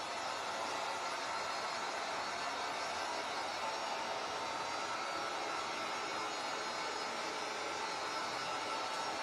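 A hair dryer blows steady, loud broadband air noise for the whole stretch, drying a second coat of paint on a craft bunny figure, with no talking.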